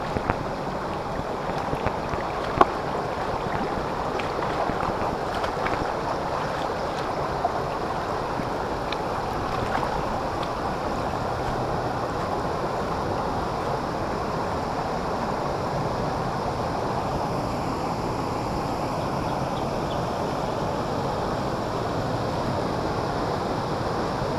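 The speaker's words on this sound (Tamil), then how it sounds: "வேற லெவலில் ஒரு அருவி இருக்கு பாருங்க அப்படியே சும்மா எப்படி குதிக்குது" A waterfall at Thottipparai near Odugathur, Tamil Nadu, with water tumbling down over rocks in a steady, dense roar that holds level all the way through, with no voices on top.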